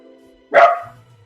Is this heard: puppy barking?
yes